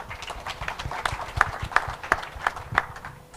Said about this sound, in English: we can give him a clap as well